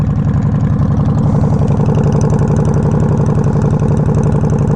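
A Yamaha Warrior 1700 motorcycle engine idles too high, a steady, loud, even rumble with a fast regular pulse that holds throughout with no voices.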